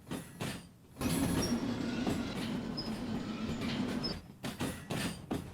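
A train in the Derail Valley video game rolling onto a siding, giving a steady rumbling rail roar with faint squeal tones, framed by short clunking knocks before and after the main passage.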